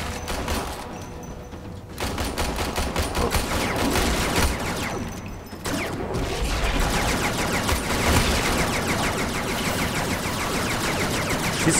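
Rapid bursts of gunfire from an enemy shooting out of a wall in Warframe rattle on almost without pause, loud and close, with a brief lull before the volleys resume.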